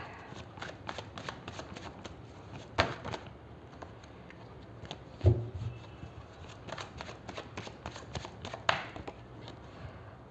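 Tarot cards being shuffled and drawn by hand, a run of soft crisp riffling flicks and taps, close and quiet, with occasional sharper card snaps and a little speech.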